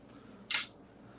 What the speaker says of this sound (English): Let's go ahead and spray it.